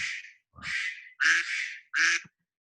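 Phone ringtone sounding as a duck quacking, four loud quack bursts in a row with short gaps, close and clear with no talk.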